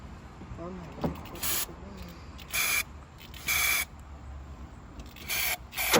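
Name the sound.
spraying carb cleaner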